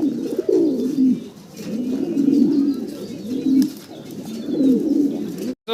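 Pigeons cooing at a pigeon farm, a close, steady series of soft, rounded throaty coos that repeat in rhythmic bursts, with faint chirps behind them and no talking.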